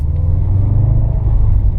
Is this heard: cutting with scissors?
no